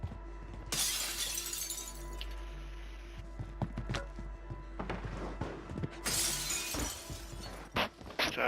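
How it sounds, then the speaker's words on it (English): Glass shatters in the Call of Duty Warzone shooter, with a bright crashing burst early on and another loud burst later, set over steady low game rumble and scattered clicks. "Think that was green, breaking glass"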